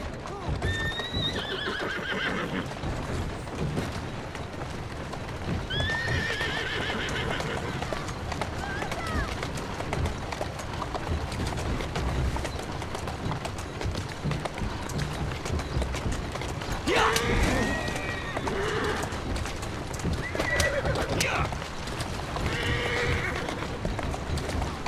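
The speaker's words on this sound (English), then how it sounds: "Who's a good horse? You are." In the video game Assassin's Creed Syndicate, a horse whinnies several times over steady hoof clip-clops, with a voice speaking briefly amid the trotting.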